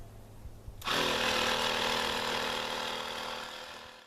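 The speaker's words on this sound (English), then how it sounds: "while the compressor is running, the gauge is going to be reading what the compressor is putting out" A portable Abox tire inflator air compressor switches on after a near-silent moment and pumps air into a completely flat tire, a loud buzzing rattle of rapid piston strokes that holds steady and eases slightly near the end.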